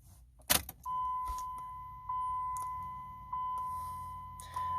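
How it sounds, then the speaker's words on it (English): A key clicks and jangles into the ignition of a diesel truck, followed by a steady electronic chime tone that repeats at regular intervals in a quiet cab. "I have my key. I'm putting it into the ignition."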